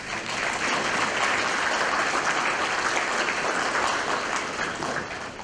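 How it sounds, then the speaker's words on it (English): An audience at a university gala and awards evening applauds, a dense, loud, steady wash of clapping that holds for several seconds before easing slightly at the end. "give yourselves a round of applause"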